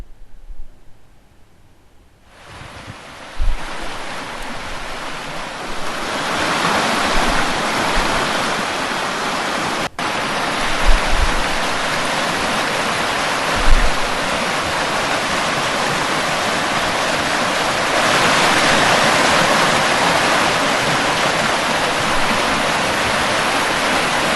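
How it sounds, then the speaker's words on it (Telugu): Water leaking and rushing at the Annaram dam project, a loud, steady roar of gushing water that continues throughout with no voices. "అన్నారం ప్రాజెక్ట్ లో కూడా వాటర్ లీక్లు మొదలైన దృశ్యాలవి"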